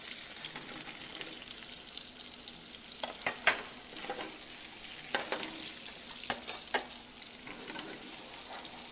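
Vegetables in olive oil and sauce sizzling in a pan while a utensil stirs through them, a constant frying hiss with scattered scrapes and light clicks, no voices.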